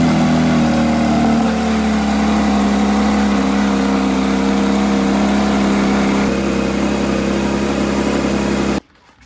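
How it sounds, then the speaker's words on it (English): A Porsche GT3 engine idles with a steady, loud, close rumble after repair on a frame machine, holding an even note for about nine seconds before cutting off abruptly. "We're gonna fill this sucker up, fire it up, let it idle, let it warm up, see how it runs"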